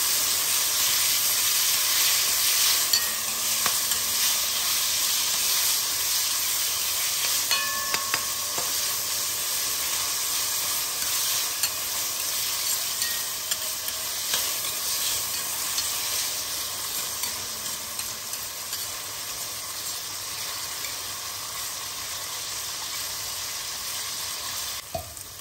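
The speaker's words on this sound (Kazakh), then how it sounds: "жақсылап тұрып қуырып аламыз." Chopped tomatoes fry in a pan with a continuous bright hiss and sizzle, close and even throughout, with faint stirring scrapes now and then.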